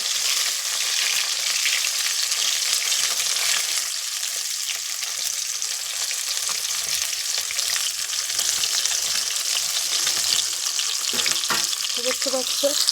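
Fish caught from a village pond sizzle loudly in hot oil in a pan, a dense, constant crackling hiss that runs unbroken, with faint stirring clinks near the end.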